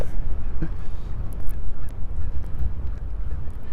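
Geese with goslings honking a few times at a short distance by a lake in Regina, over a low outdoor rumble of wind.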